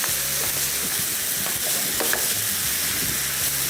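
Meat sizzling and being stirred in a frying pan while biryani filling is prepared, a steady dense frying hiss with scraping spoon strokes throughout, close and alone.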